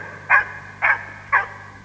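Recorded dog barks, slow, deep and harsh: three evenly spaced, noisy barks about half a second apart, loud and close over a faint low hum.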